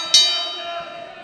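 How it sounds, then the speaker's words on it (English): A wrestling ring bell clangs once to start a match, a sharp strike followed by a ringing tone that fades over about a second. "As the bell sounds"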